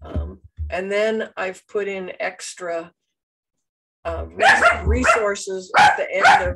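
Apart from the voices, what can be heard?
dog barking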